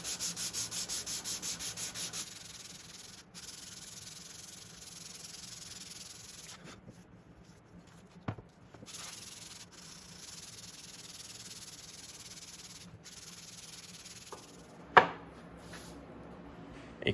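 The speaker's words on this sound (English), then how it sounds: "And here again, I'm sanding an edge before it becomes an inside corner." Sanding the edge of a wooden shelf board for a Shaker peg board shelf, a steady rubbing hiss that runs close and continuous, pausing briefly, with a sharp knock near the end.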